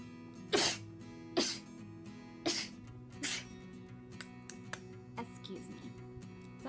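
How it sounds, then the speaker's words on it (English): Several sharp sneezes burst out one after another, loud and close, followed by quieter breathy sounds and faint background noise. "I don't know what to say after sneeze."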